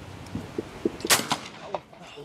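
A shotgun fires at clay pigeon targets on an outdoor shooting ground, one loud report near the middle with a few softer thuds and knocks around it, heard close.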